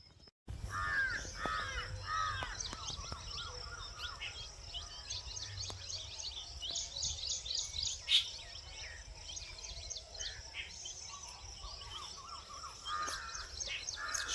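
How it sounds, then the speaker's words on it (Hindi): Crows caw repeatedly over a chorus of other birds calling and chirping on a village morning, with steady overlapping calls throughout and a faint background hum. "सुबह सुबह कोयल की आवाज़, कौवे की आवाज़, ये सब आती रहती हैं।"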